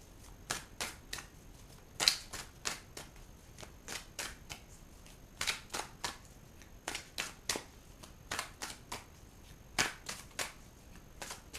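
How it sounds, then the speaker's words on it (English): Repeated crisp riffling bursts of tarot cards being shuffled, in quick irregular clusters, close and fairly quiet. "as I shuffle the cards"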